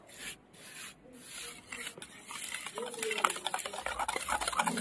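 Cake batter with powdered sugar is beaten by hand for a chocolate fruit cake, giving a continuous scraping, rubbing stir that grows busier and louder, close up, with no talk over it.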